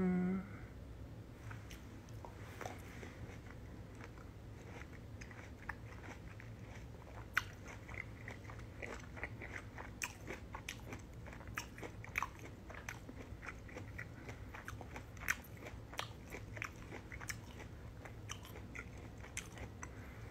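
A person eats Hallabong citrus fruit during a mukbang livestream: soft, close bites and wet chewing with occasional sharper crunchy clicks, all faint and steady, with no talking.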